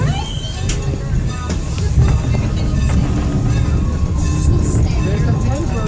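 A passenger train on a Day Out with Thomas Tank Engine ride pulls away, its loud, steady rumble and rattling carriages filling the car while people talk nearby.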